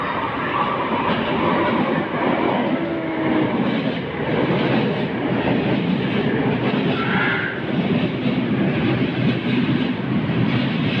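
An LRT light rail train pulls into a station on the Manila line, a steady loud rumble and rolling clatter of wheels that holds for the whole stretch without pause.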